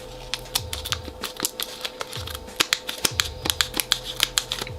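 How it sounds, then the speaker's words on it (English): A bad pair of scissors cutting during a Dell R320 server upgrade, giving a dense run of sharp clicking snips in an irregular rhythm over a faint steady electronic hum. "These are the worst pair of scissors in the world."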